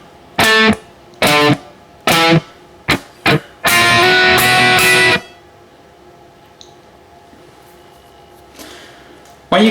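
Distorted electric guitar plays the second bar: a run of short, punchy chord stabs leading into one longer held chord, close and loud with no talking.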